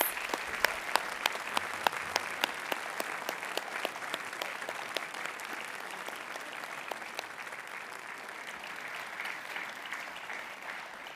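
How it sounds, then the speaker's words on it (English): A large graduation ceremony audience applauds steadily, dense clapping with a few sharp claps standing out near the start, gradually settling into an even wash. "can we show our gratitude to these wonderful people with a round of applause, please?"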